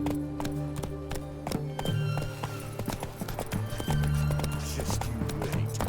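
Roach, the horse in The Witcher 3 video game, gallops in a steady clip-clop of hooves that runs throughout at close range over a bed of game music, with a brief whinny-like accent.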